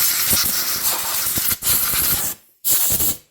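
Cleaner sprayed onto the carburetor of a used auction chainsaw, a close, steady pressurized hiss in two long bursts separated by a brief pause, then a third shorter burst after a clear gap.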